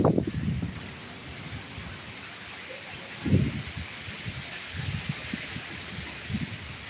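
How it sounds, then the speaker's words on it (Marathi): Heavy rain falling steadily since the night before, the start of the monsoon in May, a broad continuous wash of rainfall with a few louder low rustling bursts. "रात्रीपासून जोरदार पाऊस चालू आहे"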